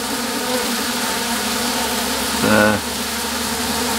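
Honeybees buzz steadily around a hive, a dense droning hum with one louder, closer buzz passing briefly in the middle.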